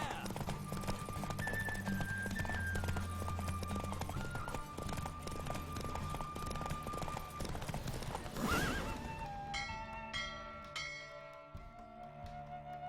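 Roach the horse gallops in a race in The Witcher 3, a fast, steady drumming of hooves with a brief whinny near the end before the hoofbeats thin out, while game music and sounds play underneath.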